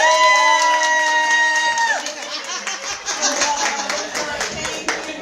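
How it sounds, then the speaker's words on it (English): A crowd at a women's empowerment benefit event claps and cheers, a loud burst of applause with whoops that follows a held musical tone and carries on to the end. "can y'all please clap it up collectively for Cody?"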